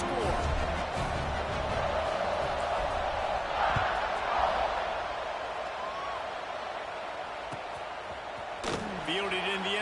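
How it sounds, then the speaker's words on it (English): A football stadium crowd buzzes in a steady, dense roar after a score, a wide constant murmur with a sharp thump near the end and a commentator talking over it. "this crowd is buzzing after that last score"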